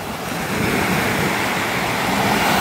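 Ocean waves washing onto the shore at a seaside in the early morning, a continuous loud broadband wash with no talking.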